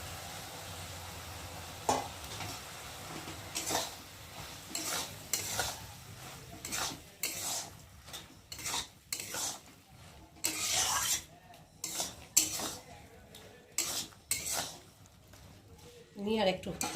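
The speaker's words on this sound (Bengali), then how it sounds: "আর এখন আমি সেদ্ধ করে রাখা ডালটাকে দিয়ে শাপলার সাথে একটু কষিয়ে নেব।" Boiled lentils and water lily stems being stir-fried in a pan, with a spatula scraping and stirring in irregular strokes over a low sizzle, moderately close and continuing throughout.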